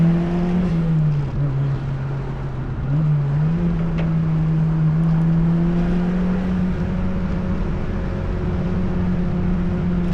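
A turbocharged first-generation Mazda MX-5 NA hums steadily while driving, its engine tone droning loud and close with gentle rises and dips in pitch, nearly free of talk.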